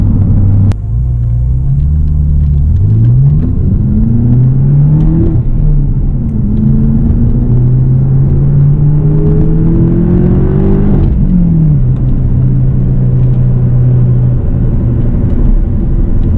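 A BMW M6 Competition Coupe with a 6-speed manual rumbles and revs up steadily through several gear changes, its pitch climbing and dropping in a loud, continuous drone.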